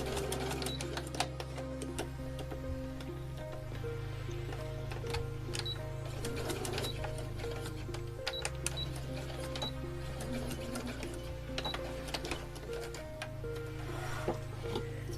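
A sewing machine stitches the seam of a small doll sock, its needle chattering in a fast, steady run that persists across the whole stretch over a tonal musical backing.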